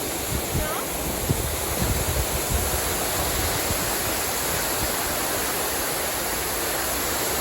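A constant, broad roar of rushing water from a waterfall at Belton Lake, Texas, fills the clip, steady and loud, with a few low rumbles early on.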